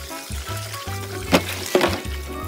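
Rice straw is swished and rinsed in water, with sloshing, dribbling splashes and a couple of sharper knocks, close by and without talk.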